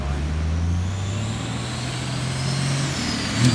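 A compound-turbo Cummins diesel pickup pulls hard at full throttle, with a loud, steady engine drone and turbo whine running throughout and a brief rise in level right at the end.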